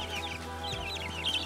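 A newly hatched chick peeps rapidly in high, thin chirps, begging for food, close by, continuing over a low background hum.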